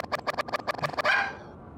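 A rapid string of about ten yappy barks from a dog in the video game Giraffe Town, close and loud, ending in a drawn-out whine.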